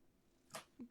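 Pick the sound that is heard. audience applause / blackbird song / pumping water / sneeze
sneeze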